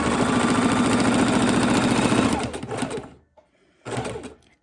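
A sewing machine runs a steady, close, continuous zigzag satin stitch on raw-edge appliqué fabric for a couple of seconds, then slows and stops, with a short burst of stitching starting again near the end.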